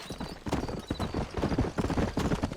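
Horse hooves clip-clop in a rhythmic, fairly close cadence in Red Dead Redemption, each strike crisp and repeating steadily as the horses move out of a frontier town.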